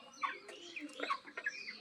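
Several broiler chickens cluck and murmur close by at a poultry farm in Tanore, Rajshahi, in a quiet setting, a short burst of overlapping calls.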